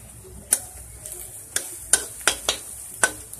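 Fish masala frying in a pan for a village-style fish recipe is stirred with a utensil, giving sharp scraping clicks at an uneven pace over a quiet sizzle.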